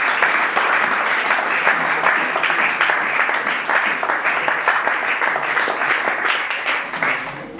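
A church congregation breaks into sustained, dense applause, with loud and steady clapping filling the room throughout and no clear speech over it.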